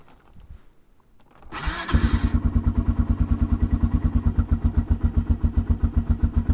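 A 2007 Arctic Cat quad cold-starting in snow with the choke on: a brief whirring crank, then the engine catches loudly and settles into a rapid, even, pulsing idle close by.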